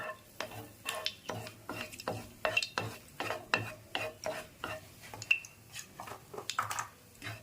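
Clove, cardamom, cinnamon and bay leaf fry lightly in oil in a pan, with repeated rhythmic stirring scrapes and clinks over a faint sizzle.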